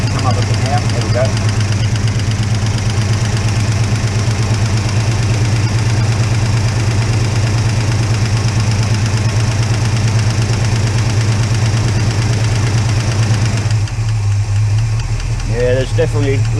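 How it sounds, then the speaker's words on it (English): A Holden HK engine with a noisy lifter idles steadily with a low rumble and faint ticking throughout; near the end the engine tone shifts and a voice speaks briefly over it. "Yeah, there's definitely lifter noise there."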